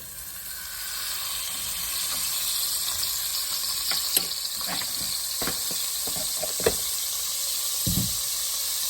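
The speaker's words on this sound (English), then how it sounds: "we're going to put 100 grams of our butter or margarine into the pot first off" Butter or margarine, 100 grams, melts in a pot with a steady bright sizzle. A few scattered knocks and clinks sound throughout.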